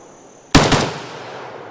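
A single close, loud rifle shot from an AK74 firing 5.45x39 Tula ammunition outdoors, a sharp crack followed by a quick secondary report and a fading decay, with no speech.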